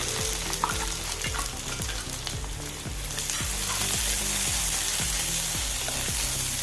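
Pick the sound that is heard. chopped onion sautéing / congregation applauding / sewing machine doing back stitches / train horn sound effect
chopped onion sautéing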